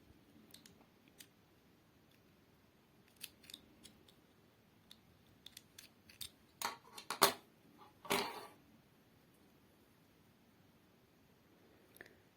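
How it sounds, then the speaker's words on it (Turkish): Small scissors snipping off excess thread in needle lace work, a scattering of faint soft snips followed by a few sharper close cuts, quiet with long pauses between. "şu şekilde ipimizin fazlalığını keselim."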